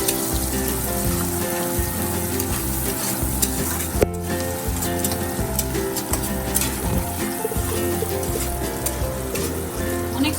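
Chopped onion sizzles in hot oil in a pan during Bengali home cooking, a steady, dense, close frying hiss with faint stirring clinks and no talk.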